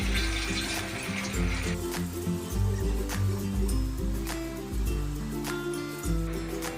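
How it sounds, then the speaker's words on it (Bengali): Palm fritters (taler bora) fry in hot oil over low heat, giving a steady, soft bubbling sizzle over a low, continuous background hum. "এই দেখুন বন্ধুরা, এরকম করে করে বড়াগুলো ভেজে নেব।"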